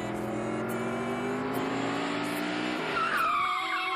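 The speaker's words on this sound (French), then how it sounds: "une voiture Ford, n'ayant qu'une phare, roulait à vive allure cette voiture entra en collision avec la voiture de Branham" A speeding cartoon Ford car with one headlight skids in a long, loud tire squeal with engine whine, rising sharply near the end just before a collision, with no talking during it.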